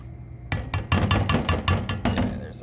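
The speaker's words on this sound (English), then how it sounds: "I'm gonna add the rest of this whipped cream" Silicone spatula adding the last of the whipped cream for a chocolate mousse, giving a series of soft taps and scrapes against the bowl at a steady, close rhythm.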